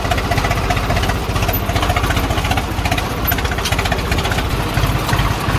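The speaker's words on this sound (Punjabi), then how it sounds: "ਉਹ ਸਾਹਮਣੇ ਜਾ ਰਹੀ ਆ ਤੂੜੀ ਵਾਲੀ ਮਸ਼ੀਨ" A tractor-drawn straw chopping machine runs close by at a farm, with a loud, steady engine drone and a fast, regular pulsing throb.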